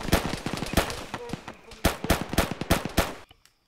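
Dense, rapid gunfire in the ArmA military game, with close bursts of sharp shots fired in quick succession and short pauses, then a sudden cutoff into near silence at the end.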